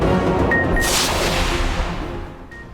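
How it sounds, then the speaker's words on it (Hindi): Fireworks burst over thousands of fans celebrating a victory in the streets of Buenos Aires, a loud, continuous rumble of booms and crackles swelling briefly near the start before easing slightly toward the end. "आतिशबाजी का शानदार मुजाहिरा।"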